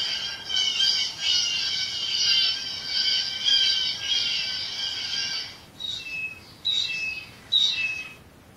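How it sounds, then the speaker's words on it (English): A blue jay gives loud, harsh, repeated calls, first in a long run of rasping notes, then in three shorter bursts with pauses between. "That is the blue jay, which is one of the loudest backyard birds there is."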